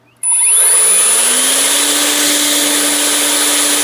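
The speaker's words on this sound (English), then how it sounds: "It's about as loud as a normal full-sized blower. Full blast." A handheld cordless leaf blower spins up abruptly and roars at full power, a loud, steady whooshing whine with a high motor pitch, close by.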